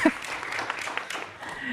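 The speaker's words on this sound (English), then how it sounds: "We like applause." An audience claps at a leadership panel, with brief scattered applause continuing while a person speaks over it.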